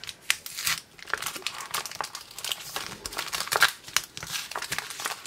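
Crinkling and tearing of plastic wrapping as a trading-card booster pack, fastened with tape to a Lego Ninjago magazine, is pulled free and unwrapped, with close, irregular bursts of crackle and rip throughout and no talking.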